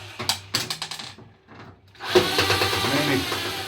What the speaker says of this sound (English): You just remove the screws from the front.